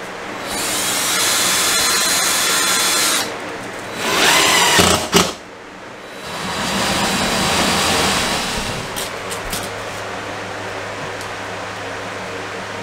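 A power drill bores holes through a freshly finished interior wall for a mini split indoor unit, with long loud steady whining runs, a short break with bumps, then another sustained stretch that fades to lower hum.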